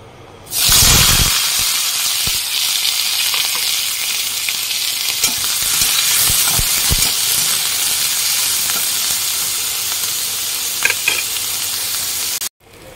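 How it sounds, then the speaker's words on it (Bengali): Chopped onion, garlic and green chilies hit hot oil with a loud burst of sizzling that settles into a continuous close crackle and hiss, with occasional stirring clicks, then cuts off abruptly near the end. "আমি এবার এখানে আছে পেঁয়াজ, রসুন, কাঁচা লঙ্কা সব একসাথে আমি ভেজে নেব।"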